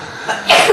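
A single short sneeze in an office meeting setting, close and fairly loud, bursting out alone with no talk over it.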